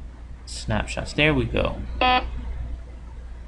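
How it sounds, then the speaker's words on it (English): A short electronic beep from a Foscam MJPEG camera alarm, with a steady, harmonic-rich tone, sounds once, right after a person finishes speaking nearby. "now that is the alarm"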